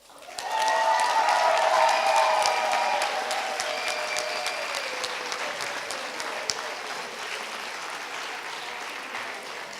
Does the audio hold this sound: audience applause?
yes